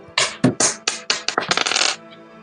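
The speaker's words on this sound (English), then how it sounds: "Lumen, would you roll for random monster encounter? 6-sided dice and a 1 or a 2" Six-sided dice are rolled during a tabletop role-playing game and clatter as a rapid series of sharp, bright clicks. The clicks speed up and bunch together before stopping after about two seconds, with nothing else heard.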